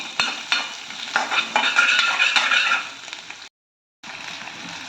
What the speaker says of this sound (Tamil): சின்ன வெங்காயம் கட் பண்ணதை போட்டுக்கலாம் நல்லா வதக்கிக்கலாம்